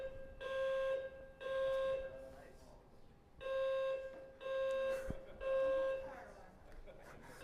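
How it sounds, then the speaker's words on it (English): A building fire alarm sounds in a conference lecture hall, a steady high electronic tone pulsing in repeated bursts of about a second, loud and continuous across the clip over room noise. "Fire alarm."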